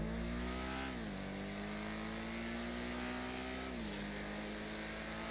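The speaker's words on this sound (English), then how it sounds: "listen to this engine" The Ocelot Lynx sports car in GTA Online revs its engine with a steady, loud drone, pitch dipping twice as it shifts gears over several seconds, with no talk.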